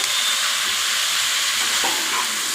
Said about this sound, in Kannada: ಇವಾಗ ಇದು ಕಾಣಿಸ್ತಿದೆ ಸ್ವಲ್ಪ ಎಣ್ಣೆ ಒಳಗಡೆ ಫ್ರೈ ಆದ ತಕ್ಷಣ ಸ್ವಲ್ಪನೇ ಸ್ವಲ್ಪ ಆಗ್ಬಿಡ್ತಿದ್ದು